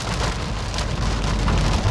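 Heavy rain drums loudly and steadily on a BMW Z4 driving the road between Klaten and Solo, a dense close patter with no voices.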